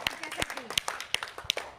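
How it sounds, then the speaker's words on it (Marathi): Children clapping in a primary classroom during a smell-guessing language game, scattered sharp claps in an uneven rhythm, close and fairly quiet, with a voice speaking between them. "जोरात टाळ्या पडल्या पाहिजे"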